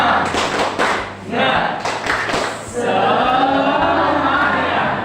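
A school class claps the rhythmic 'tepuk semangat' spirit clap: two quick bursts of sharp, close group claps, then a sustained chorus of shouting voices filling the room.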